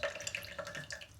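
Fruit rinsed under a running kitchen tap for ginger beer, a short close burst of splashing, trickling water.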